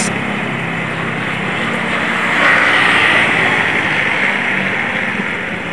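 A manual-gear underbone motorcycle engine runs nearby with a loud, steady drone that swells briefly in the middle as the throttle opens, then settles back.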